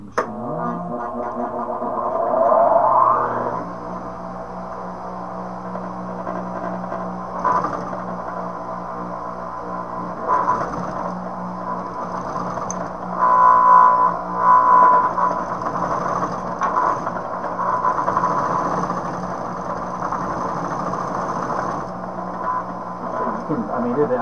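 A Singer 281-1 industrial sewing machine runs steadily with a whirring, mechanical rhythm while binding an edge. It is steady and close, and a person talks intermittently over it.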